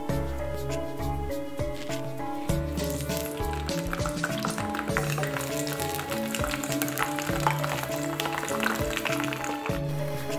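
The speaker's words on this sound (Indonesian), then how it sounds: "Kita menggoreng terongnya terlebih dahulu." Eggplant frying in hot oil in a home kitchen, a continuous bubbling sizzle, close and steady throughout with occasional crackles and utensil stirring.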